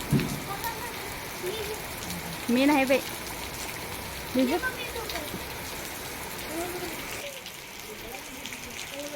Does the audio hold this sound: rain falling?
yes